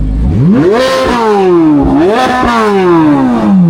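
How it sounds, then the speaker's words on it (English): A powerful 650 hp Camaro ZL1 engine revs hard twice, the pitch climbing then falling back, loud and close with a deep throaty roar. "Excuse me, can you rev it again?"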